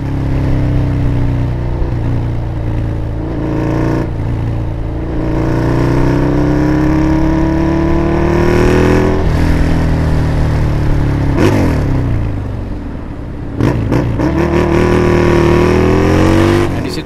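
A motor vehicle engine revs and accelerates repeatedly, pitch climbing and falling in long surges, loud and close amid traffic noise.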